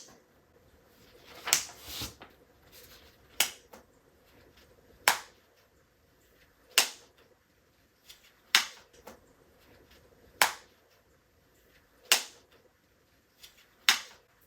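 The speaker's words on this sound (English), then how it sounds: "We're slow clapping that." Slow, evenly spaced single claps, about nine sharp hand claps roughly every one and a half to two seconds, fairly close and alone over a quiet background, given as a mock slow clap during a fantasy football league recap.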